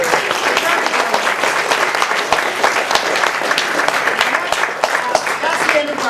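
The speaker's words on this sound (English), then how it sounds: "Big round of applause." An audience at an evening music performance gives a big round of applause, steady, fairly close clapping with sharp individual claps standing out, mixed with crowd voices throughout.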